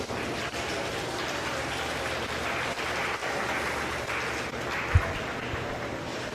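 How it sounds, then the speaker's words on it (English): Steady, dense applause from an audience for the exhibitors at a 2021 meat goat show, filling the whole stretch with one sharp thump near the end. "Give these exhibitors a round of applause."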